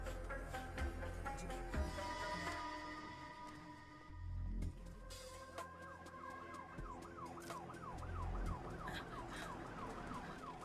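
A wailing ambulance siren rises and falls repeatedly over steady traffic rumble, growing clearer toward the end.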